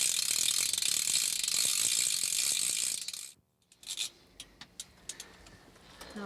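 An ice-fishing reel's ratchet buzzes in a fast continuous clicking run as a fish pulls line, then stops abruptly, followed by a few scattered clicks and handling noises.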